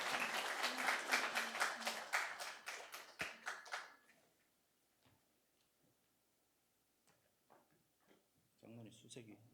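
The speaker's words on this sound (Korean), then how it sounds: "박수해 주시기 바랍니다" Congregation clapping in a church after a child's baptism at a Sunday service, a dense burst of many hands for about four seconds that fades out, followed by quiet and a brief voice.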